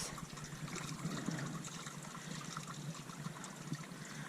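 Water runs steadily from a village tap in a ghost village in Piedmont, Italy, a continuous faint trickling splash with no talk over it.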